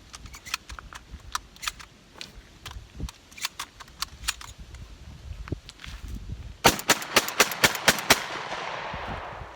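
A JM Pro shotgun firing rounds at a range, sharp close blasts with clattering action noise, scattered at first and then a fast string of loud shots near the end.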